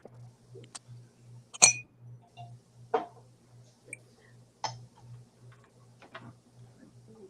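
Green uranium glass pieces marked Taiwan clink together as they are handled, giving scattered sharp little taps and chinks with a steady low hum underneath, fairly quiet and close.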